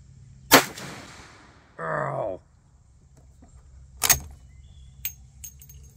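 A single loud, sharp gunshot from a Rossi R92 .357 Magnum lever-action carbine, fired outdoors, followed by a brief mechanical clatter and a few faint clicks.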